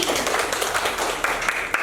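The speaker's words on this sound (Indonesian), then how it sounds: "tepuk tangan dulu untuk Kirani" An Indonesian primary-school class applauds a pupil named Kirani, a brief burst of mixed hand clapping from a roomful of children, fairly close and steady, with a few sharper individual claps.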